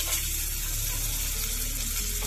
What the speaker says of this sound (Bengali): মাছ ভাজার তেলে আর আলু দিয়ে দেবো।